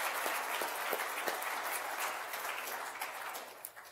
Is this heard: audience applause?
yes